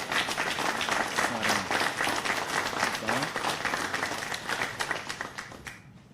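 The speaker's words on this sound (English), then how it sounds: "Let's give Savion another round of applause." An audience applauds Savion at a community anti-violence event, with sustained mid-distance clapping across the whole stretch and faint voices mixed in, tapering off at the end.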